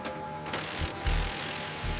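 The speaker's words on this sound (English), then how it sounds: "Torque the main bolt to the specified setting." A ratcheting torque wrench tightens the main bolt during final assembly of a stealth fighter jet in a factory, a rapid run of close clicking pawl ticks over a loud, steady industrial hum.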